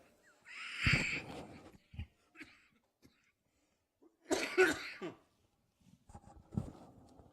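A few short, sharp coughs burst out near the start, with more bursts a few seconds later; quiet gaps and faint thumps fall between them.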